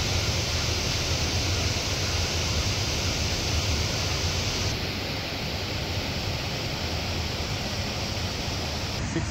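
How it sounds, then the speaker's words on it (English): Laksapana waterfall in Sri Lanka, a 126-meter cascade, roars as a steady, dense wash of falling water, constant and loud throughout with no voices. "we explored the stunning Laksapana waterfall"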